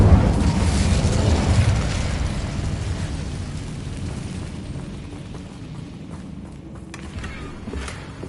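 An Incendio fire spell cast in a Harry Potter video game bursts out as a loud, roaring whoosh of flame that starts strong and slowly fades over several seconds.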